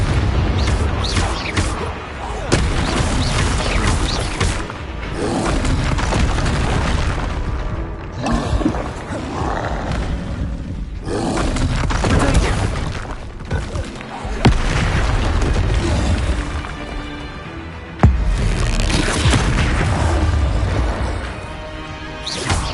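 Explosive spell blasts in Hogwarts Legacy go off as repeated heavy booms and crashes, loud and close, with bursts and thuds spaced through a continuous rumbling battle.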